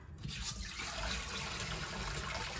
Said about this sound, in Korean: 이렇게 다시 물을 받아서 식초를 타서 담가 놨다가